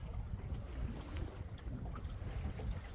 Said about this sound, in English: But then suddenly you'll get like a whoosh and a big, big gust.